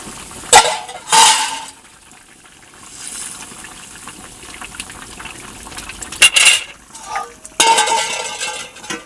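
Bori lentil dumplings and rohu fish pieces go into a simmering potato and taro curry, with a few sharp clinks of utensil on pot and bursts of splashing, then a low bubbling simmer between, no talk.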